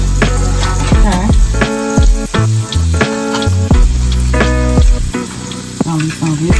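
Salmon fillets frying in a pan and being turned over, giving a loud, steady sizzle with a few sharp bursts as pieces shift, backed by strong tonal music throughout.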